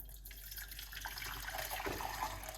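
Hot water pouring from a pot into a cup for moringa tea, a steady close splashing trickle that grows fuller toward the end, with no talking.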